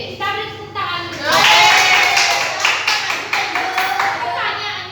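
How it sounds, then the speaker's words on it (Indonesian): Students in a classroom applaud together, with loud, dense clapping mixed with children's voices calling out through most of the burst. "Oke, kita beri tepuk tangan dulu."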